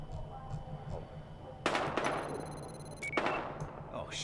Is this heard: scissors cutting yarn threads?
no